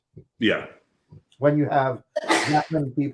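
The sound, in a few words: sneeze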